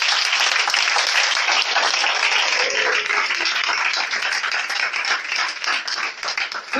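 Steady, loud applause from a church congregation, dense clapping mixed with cheering voices, holding at an even level throughout.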